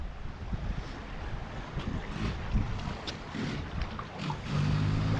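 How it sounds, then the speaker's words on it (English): Wind blows near a bay shoreline, a steady broadband rush with gusty buffeting against the microphone and faint water movement beneath, moderately loud with no speech. "And just taking this corner, it gets really windy."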